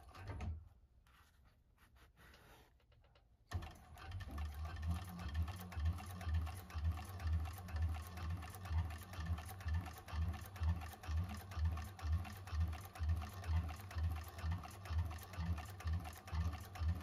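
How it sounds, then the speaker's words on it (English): A 1341 cylinder arm sewing machine top stitching along the edge of a bag, starting after a quiet pause and then running with a steady, rapid mechanical chatter close by. "we're going to top stitch along this edge, and that's when we're going to change our stitch length"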